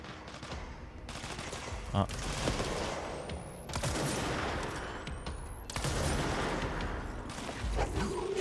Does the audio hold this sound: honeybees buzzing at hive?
no